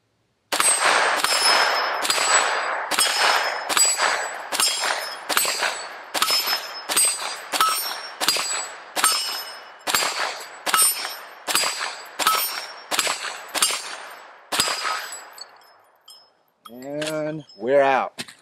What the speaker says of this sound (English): I think we can continue shooting and have some fun.